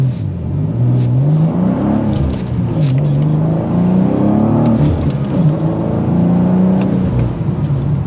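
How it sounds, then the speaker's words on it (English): A 2024 BMW M2 manual coupe accelerating hard, its engine and exhaust note droning steadily and loudly with rising and shifting pitch through gear changes, heard from inside the cabin for about eight seconds. "You're gonna get the exhaust note that filters in."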